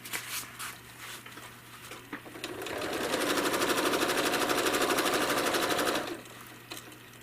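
A home sewing machine runs steadily for about three seconds while machine-quilting a leafy feather motif. It gives a close, rapid, even needle patter that starts and stops cleanly, with quieter handling noise before and after.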